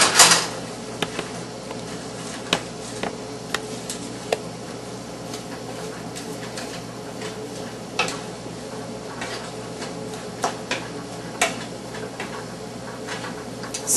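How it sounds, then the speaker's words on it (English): A spoon stirs polenta and a corn mixture with white frozen corn and sea salt in a pan, scraping and tapping against the pan in scattered light ticks and clinks over a quiet kitchen background. "So I stir it continuously until it comes to a boil so that I prevent it from sticking to the bottom of my pan."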